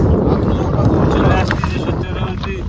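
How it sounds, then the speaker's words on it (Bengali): Strong wind buffets the microphone aboard a fishing boat on the Matla River in the Sundarbans, a steady loud rumble with water and engine noise mixed in, and voices speak faintly over it. "বিশাল হাওয়া"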